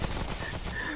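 Video game gunfire crackles as a dense, rapid burst of shots, fairly quiet and lasting about a second with no speech over it.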